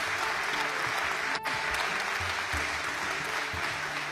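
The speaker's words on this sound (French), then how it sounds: "Ils méritent une bonne main d'applaudissements." Full, even applause from an audience at a Canadian government official-languages announcement, honoring staff, sustained broadband clapping at close range with a brief momentary dip partway through and no talking over it.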